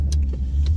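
A car that has been reluctant to start, its engine running in a steady low rumble close by, with a couple of faint clicks over it, very short.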